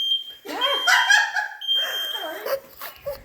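A household smoke detector sounds a thin, high steady tone that persists under excited voices and what may be a dog, with laughter and chatter close by.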